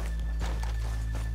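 Horse hooves clip-clopping on a town's main street in the video game Red Dead Redemption 2, a few close, irregular hoof strikes over a low steady hum, with no talk during it.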